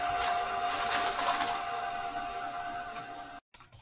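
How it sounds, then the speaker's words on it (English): A heat gun blows hot air over wet paint in an art journal, a steady loud whooshing hiss that runs unbroken for over three seconds before it cuts off abruptly into near silence. "I'm going to give a little dry heat with my heat gun"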